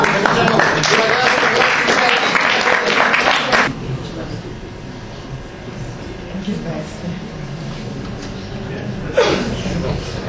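Audience applause at a talk event, a dense, loud burst of clapping for roughly four seconds that then cuts off as conversation carries on.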